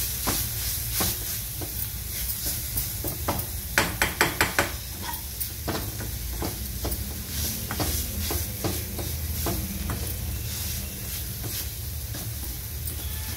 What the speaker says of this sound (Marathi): हे जरासं तेलामध्ये परतून घेते मी